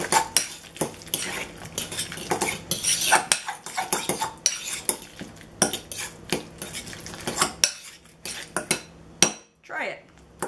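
Guacamole is stirred and mashed in a bowl with a utensil, producing close, irregular scraping and clinking strikes against the bowl, some sharp and some soft, with a voice faintly present.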